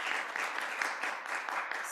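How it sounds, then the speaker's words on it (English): A seated audience at a workshop gives a round of applause, a steady, moderately quiet patter of many hands clapping continuously with no voices over it. "Let's give them another round of applause."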